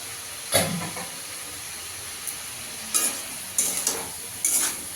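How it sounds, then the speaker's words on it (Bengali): Prawn curry being sautéed in a pan with turmeric, cumin and Kashmiri chilli powder, a constant low sizzle with several short bursts of louder hissing and stirring scrapes, close by, with no talk. "ভালো করে কষিয়ে নেবো।"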